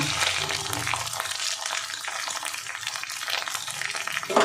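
Ginger and green chili paste fries in a pan for a vegetarian dish as asafoetida is added, giving a steady, dense sizzle with light stirring scrapes throughout.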